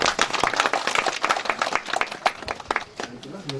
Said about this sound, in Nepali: हामी ताली बजाउनु छौँ यति बेला।